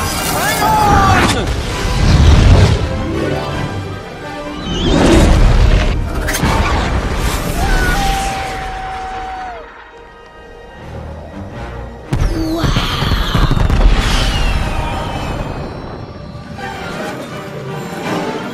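Methane gas explodes and blasts out of a sewer in the 2014 animated film Mr. Peabody & Sherman, loud deep booms in several surges mixed with whooshing and whistling effects and bits of voices.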